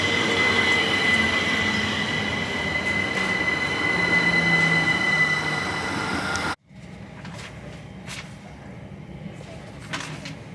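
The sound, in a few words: Southern Class 377 train on the Epsom Downs branch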